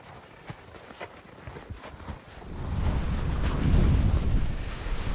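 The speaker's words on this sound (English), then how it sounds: "It's pretty windy too" Wind on a Colorado ridge buffets the microphone with a low, blustery roar that builds and grows stronger over several seconds, with faint scattered taps early on.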